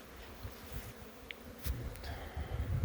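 Honeybees buzz faintly around a small split colony's hive during a New Year winter cleansing flight in the Kyiv region, a soft continuous hum with a few brief closer passes.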